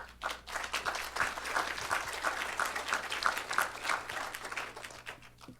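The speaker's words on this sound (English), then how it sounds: "I think that deserves a round of applause." Steady applause from an audience at a city council meeting, moderately distant, continuing evenly for several seconds without any talking.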